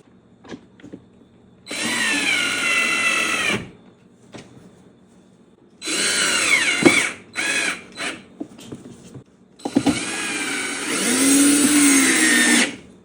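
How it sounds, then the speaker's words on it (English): Power driver running T25 screws into the airbox cover of a 2016-18 Mercedes-Benz GLE 350, in three close, loud whirring bursts of about two seconds each, separated by brief pauses and small clicks. "Let's screw in our T25 screws."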